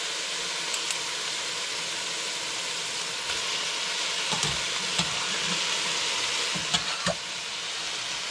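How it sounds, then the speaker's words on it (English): Coconut milk bubbles and sizzles in a hot frying pan for Bicol Express, a dense, even hiss with occasional soft clinks and stirring knocks, close up and without speech. "We'll put the coconut milk."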